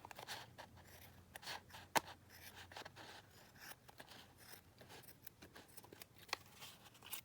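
Scissors trimming hot-glued lace on a collage board, giving faint irregular snips and scraping crinkles close by with no talking.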